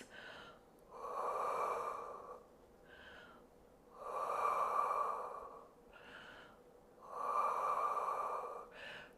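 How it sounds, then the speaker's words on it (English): Three slow, deep breaths during a calf stretch, each a long airy inhale and exhale, heard close and fairly soft with quiet pauses between. "hold it there for 3 deep breaths."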